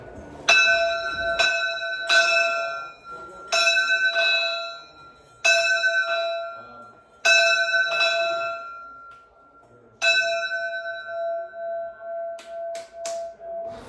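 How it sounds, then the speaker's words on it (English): A ringing bell found indoors, struck in repeated bursts of clear, sustained metallic tones with long decaying overtones, loud and close, with pauses between groups and a final slow fading series of strokes. "And then I found a bell inside of another room"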